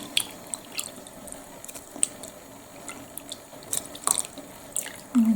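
Soaked dried mushrooms are rinsed under running tap water in a kitchen sink: soft trickling and splashing with irregular drips and clinks, fairly close and quiet, with no talking.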